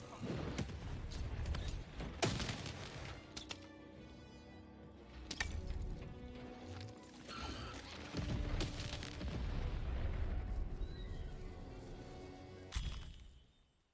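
Loud booming cannon blasts and shattering crashes from the video game Lost in Random, several sharp bursts spread across the clip amid busy electronic background sound.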